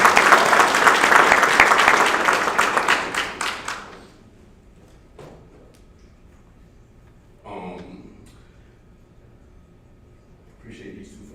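Applause at a graduation ceremony: a burst of many hands clapping that fades out after about four seconds, followed by quiet room tone with a few scattered taps and brief voices.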